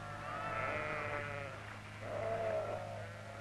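Sheep bleat twice in drawn-out, wavering calls, one after the other, fairly close over a steady low hum.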